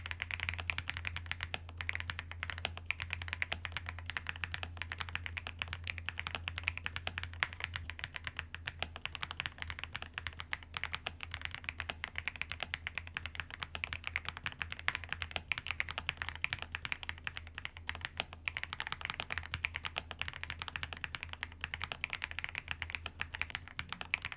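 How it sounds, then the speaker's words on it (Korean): Steady typing on an FL-Esports OG98 mechanical keyboard with Ice Mint switches, a continuous stream of crisp clacky keystrokes at an even pace, close up and fairly quiet, with no voices. "여기 박혀있던 아이스민트 스위치는 시원한 타건음의 매력적인 스위치입니다"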